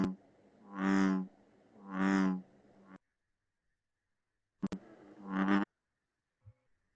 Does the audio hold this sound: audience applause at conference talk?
no